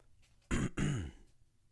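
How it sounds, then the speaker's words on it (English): A single harsh cough, two quick rough bursts close to the microphone, in an otherwise quiet room. "Please excuse the cough."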